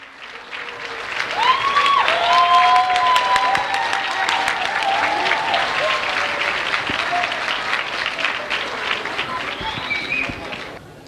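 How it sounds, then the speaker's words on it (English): Sustained audience applause following a school production of The Lion King, a dense wash of clapping that swells quickly, holds steady for several seconds and tapers slightly toward the end, with a few voices and cheers mixed in. "Let's put our hands together for a huge round of applause for the actors"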